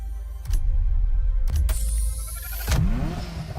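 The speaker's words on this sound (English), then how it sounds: "The Ferrari F40." A Ferrari F40 engine in the video game The Crew Motorfest, revving hard in several loud, close bursts, pitch climbing with each rev between brief gear-change dips.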